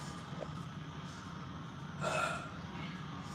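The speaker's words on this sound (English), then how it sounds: "You might need to drink water to avoid any more belches between now and then" A single short belch during amateur stock car race commentary at Golden State, one brief, fairly soft burst rising out of a quiet background of low room noise.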